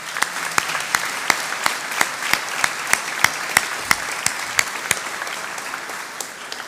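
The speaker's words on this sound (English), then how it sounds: "Let's give them a warm round of applause." A school reunion assembly audience applauds steadily, a dense wash of hands with sharp, regular accented claps standing out every half second or so, holding at an even level throughout.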